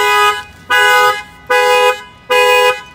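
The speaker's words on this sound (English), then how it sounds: "we'll fire off the alarm." A Lexus IS300 car alarm, set off by its shock sensor, blares in loud, regular horn blasts, four bursts of about half a second each separated by short pauses, close by.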